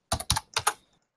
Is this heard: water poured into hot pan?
no